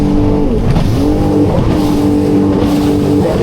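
A jet ski engine drones loud and close as the craft bounces over bumpy waves, its pitch sweeping up and down with each jump in one continuous roar.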